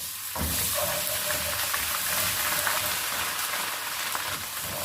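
Garlic-ginger paste frying with onions in a pot, a steady dense sizzle that holds evenly throughout, close and fairly loud with no voices over it.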